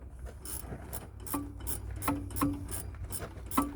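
A nut is tightened on a shock absorber of a 1996 Geo Tracker: a ratchet clicks in quick irregular bursts, close and clear, with a low steady hum underneath and no talking.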